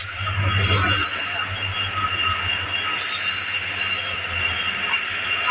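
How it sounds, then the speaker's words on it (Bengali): A freight train rolls past at a station platform, a steady continuous rumble of wagons and wheels with high squealing metal, loud and close throughout with no talking. "চলো একটা মালগাড়ি চলে এসেছে দেখো"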